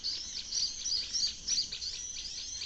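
A songbird caught with a tegek fishing pole in Sumatra chirps in quick repeated high tweets, faint and fairly close, over a quiet background.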